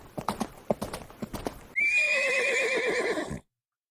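Horse hooves clip-clop in a quick uneven rhythm, then a loud, close horse neigh rings out with a long wavering whinny before cutting to silence.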